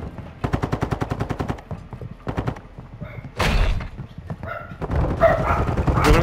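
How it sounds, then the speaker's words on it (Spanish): Gunfire in the video game Call of Duty DMZ, including sniper rifle shots. Rapid bursts of loud cracks come first, then a few heavier booming shots, with a dog-like bark or voice mixed in and a busy noisy background. "Está disparando un güey con el sniper"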